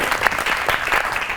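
Studio audience applause on a Pakistani comedy talk show, a steady, dense wash of clapping that holds at an even, fairly loud level for the whole stretch, with no voices over it.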